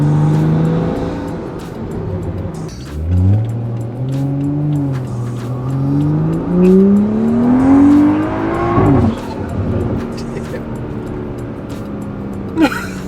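A turbocharged, methanol-injected BMW F30 335i accelerating hard, its engine note climbing through rising pitch sweeps, then a gear change and another pull, loud and close from inside the car, with a sharp pop near the end.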